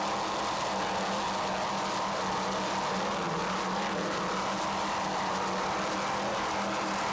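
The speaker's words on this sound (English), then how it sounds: "Gone again, powered by two 700 horsepower inboards." A racing powerboat driven by two 700-horsepower inboard engines drones steadily at speed during a Gulf of Mexico Grand Prix, a loud, sustained engine roar with a low hum and rushing noise on top.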